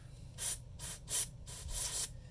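Five short bursts of strong-smelling aerosol spray hiss, close by, each about a quarter second with brief pauses between, over a low background hum, used to clean the output gears of a VEX Robotics 393 motor.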